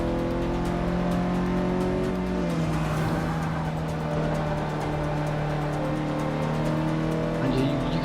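Race car engine and squealing tyres in Forza Motorsport 6, a continuous engine note that shifts pitch as it revs and changes gear, with tyre squeal and a voice talking over it.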